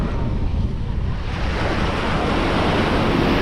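Sea waves wash steadily onto Playa Mamitas beach in Playa del Carmen on a rainy overcast day, a continuous broad roar of near surf with wind noise buffeting the microphone throughout.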